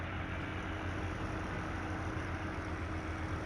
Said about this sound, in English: Love the sound of this tractor.